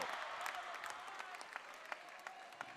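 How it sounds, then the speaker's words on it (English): Spectators at a women's college basketball playoff game in a gym make noise, a faint continuous crowd din with scattered claps and sharp pops rising over it. "Now the Vaquero crowd getting into it, making some noise"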